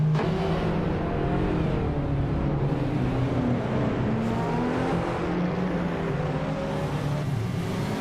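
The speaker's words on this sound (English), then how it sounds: "The race is underway at Atlanta Motorsports Park." Race cars, including a 2029 Ford Focus R, run at Atlanta Motorsports Park, engines revving and droning continuously at moderate volume, with passing whooshes blending into a steady roar.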